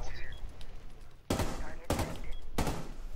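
Three sharp, loud bursts of video game gunfire crack out in quick succession over a busy background, with a player's voice also heard in the mix.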